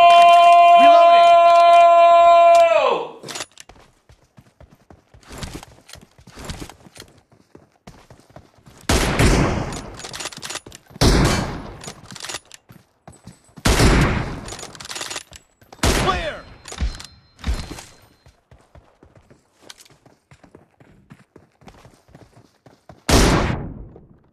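Gunshots from the PUBG Mobile shooter game ring out as scattered sharp bursts after an opening sustained tone, interleaved with a voice speaking.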